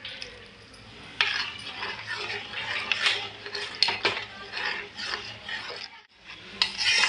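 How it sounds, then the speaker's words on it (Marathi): A spoon scrapes and clatters steadily against a metal pan while Malvani-style kulith pithi, a thick horse gram flour curry with onion, is stirred over a raised flame. The scraping is close and continuous, with a few louder knocks, and no talk. "व्यवस्थित ढवळून घेऊया आपण"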